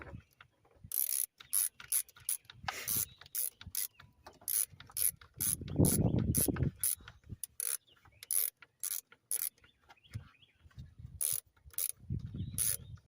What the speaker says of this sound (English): Take an 8mm socket. Tighten it up.